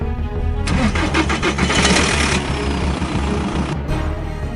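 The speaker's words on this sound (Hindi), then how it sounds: "गाड़ी स्टार्ट करने लगा" A car engine cranks and catches, a loud close starter whir that settles into a running idle after a few seconds, with no voices.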